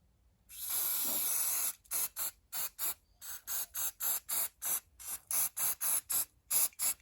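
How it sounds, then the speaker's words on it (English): A long hiss of spray, then a quick series of short sharp spritzes from a spray bottle in a steady rhythm, close and fairly loud. "see what happens when I spray them"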